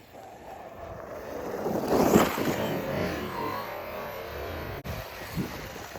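An Arrma Outcast 8S RC car drives and skids through snow outdoors, a continuous rushing, windy roar that swells to a loud peak midway, then eases, with a sharp break near the end and no talk.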